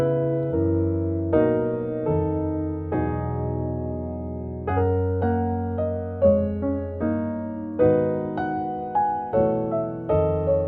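Gospel jazz piano chord progression for a song, rich sustained voicings with deep bass notes, chords changing every second or so, played alone and close without talking.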